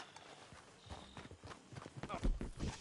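Horse hooves clip-clop in a video game, a quick uneven run of steps that gets louder toward the end, with talking mixed in.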